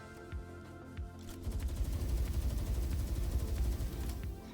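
An AK rifle fires in Palworld, a video game. A couple of single shots come first, then a rapid sustained burst of automatic fire that rolls on for several seconds, loud and dense, with no talking over it.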